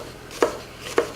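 A knife cuts through an onion into half rings on a board, two crisp chops about half a second apart, close and clear with no talking.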